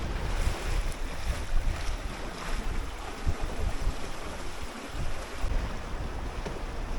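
A sailboat out at sea in light wind moves through waves. Water washes and splashes steadily against the hull under a constant rush of wind noise, moderately loud, with no voices.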